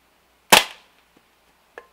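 A BB airgun pistol fires once from the hip with a sharp, close crack, followed by a faint tick and then a short, quieter metallic report a moment later.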